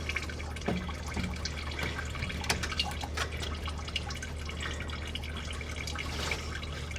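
Coolant drips and trickles from a disconnected radiator hose on a 2001 Toyota Camry during a home repair, with scattered irregular drops and a steady low background hum throughout.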